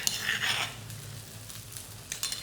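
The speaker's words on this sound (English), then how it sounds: "So just gonna briefly cook this off, mix it well with my paste." Buah keluak paste cooking in hot oil in a pan, a quiet hiss of frying with brief scraping and stirring clatter near the start and end, faint and close.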